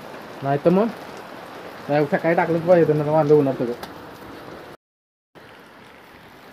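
Steady rain patters in the background throughout while someone talks over it in the foreground, the hiss continuing alone after a brief cut near the end.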